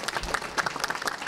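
A short run of audience applause for former staff at a workforce grant event, with close, dense hand claps of even loudness.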